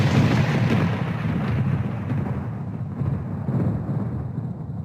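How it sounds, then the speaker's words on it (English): A thunder sound effect, a deep continuous rumble that rolls on steadily for several seconds and then slowly fades, heard alone without any voices. "This is the sound of thunder."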